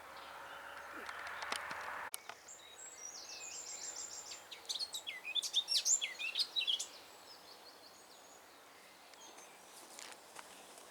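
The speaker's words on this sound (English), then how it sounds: "Lovely bird song coming from the tree." Birds sing and chirp from a nearby tree in Stoke Park Woods, Bishopstoke, Hampshire, a run of bright whistled phrases in the middle, with quiet countryside background and a brief rustle early on.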